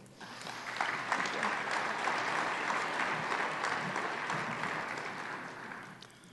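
An audience at a clean-water relationship-building talk breaks into sustained applause to welcome the panelists, a dense, even wash of clapping that holds steady for several seconds before tapering slightly.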